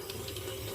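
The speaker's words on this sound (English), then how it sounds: "So here comes the hot water, a little in there," Hot water running from a kitchen tap into a dishwashing sink, a steady close hiss of flow for under a second with no talk over it.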